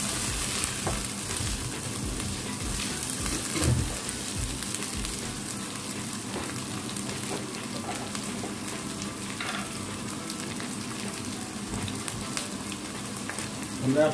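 Okra sliced for chicken wing jalfrezi frying in a hot pan, a steady dense sizzle and crackle with occasional stirring scrapes, close and continuous with no talk over it.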